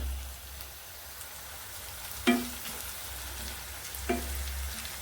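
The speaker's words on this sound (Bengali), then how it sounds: "আমি প্রথমে পেঁয়াজটা একটু ভেজে নিব" Onions frying in oil in a pan, a steady soft sizzle throughout with two sharper clinks or stirs midway and near the end, no talking.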